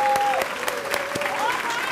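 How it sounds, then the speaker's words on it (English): Audience clapping at a women's housing event, with distinct slow, rhythmic claps starting together over a faint steady tone, loud and close. "join me in clapping"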